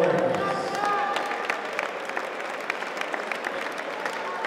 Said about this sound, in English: please join down South and giving full applause to these gallant warriors